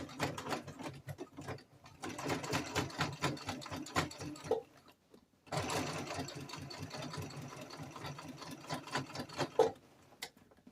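A sewing machine stitching a back stitch on a garment being remade from a jumpsuit into a tunic top. It runs in two close, rapid mechanical bursts separated by a short pause, with no talking.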